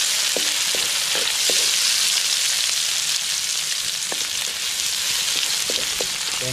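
Onions sautéing in a pan for a coconut milk bamboo shoot dish, a constant dense crackling sizzle with occasional light taps of a utensil, close and steady, no speech.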